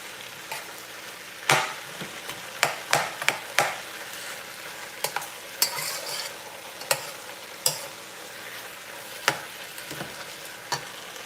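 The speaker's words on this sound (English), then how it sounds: "Let that fry up." Okra, orange sweet peppers and other vegetables sizzle in a hot pan, with a steady frying hiss broken by scattered clacks and scrapes of stirring.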